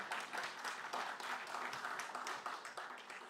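An audience at a conference in Israel claps steadily, dense and continuous for the whole stretch at a moderate, even level, with no talk over it.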